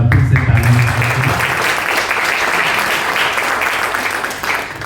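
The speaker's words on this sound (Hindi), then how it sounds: "मैं चाहता हूँ कि उनका स्वागत हम एक बार फिर से तालियों से करें।" An audience breaks into loud, steady applause to welcome a guest at a poetry gathering, the clapping following a brief spoken moment at the start and continuing evenly.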